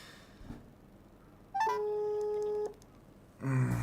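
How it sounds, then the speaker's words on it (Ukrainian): Telephone keypad tones dial a number during a live broadcast giveaway of a Galaxy S25 Ultra: a brief blip, then a steady second-long tone, then a louder burst at the end, with no talking. "Давайте ми просто зателефонуємо і в прямому ефірі його привітаємо."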